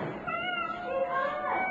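A female brown tabby stray cat meows in a drawn-out, wavering cry close to the listener, with pitch sliding up and down for over a second.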